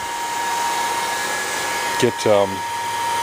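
A heat gun set to high runs with a steady, even whoosh of blowing air while it warms up before being used on faded ATV plastics, with a couple of brief voice-like bursts over the constant drone.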